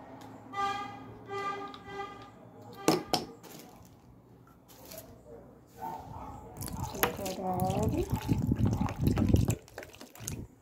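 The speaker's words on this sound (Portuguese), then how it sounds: "Botou a cola. E aí vai colocar a água." Glue and water are stirred together in a small shallow plate, giving soft wet drips, squishes and splashes of liquid in bursts, with someone talking over it.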